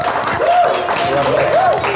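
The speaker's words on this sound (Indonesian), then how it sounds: "kita kasih tepuk tangan dulu buat Tante Erni" A studio audience on a talk show claps for Tante Erni in a short burst of applause, mixed with voices speaking and calling out over the clapping.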